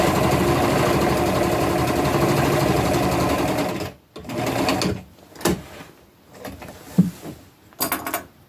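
A sewing machine hums at a continuous run for about four seconds while stitching a flannel tunic, then stops and gives way to scattered clicks and handling knocks.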